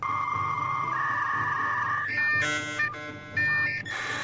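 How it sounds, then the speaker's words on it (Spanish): A dial-up modem connecting: steady tones give way to a higher tone, then bursts of harsh hissing static and warbling handshake noise, loud and close with no voices. "el módem sonaba así"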